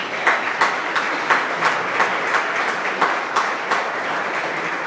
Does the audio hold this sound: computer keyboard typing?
no